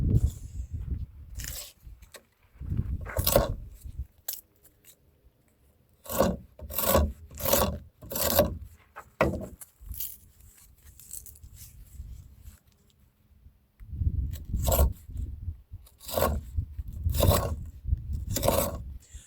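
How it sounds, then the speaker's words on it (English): A Buck Canoe pocketknife's pen blade makes utility cuts, heard as bursts of short rasping scrapes, some in quick rhythmic runs, separated by quiet pauses. "Let's go ahead and do some utility cuts."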